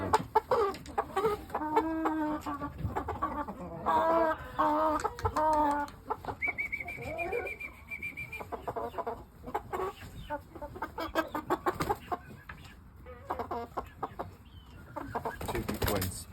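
Pure o shamo chicken pullets cluck in a short, busy burst near the start, followed by quieter, scattered clucks and farmyard movement. A person talks intermittently over the birds.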